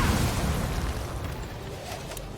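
In the video game Divinity: Original Sin, a bomb goes off with a loud, rumbling blast that slowly fades into a low roar over a few seconds.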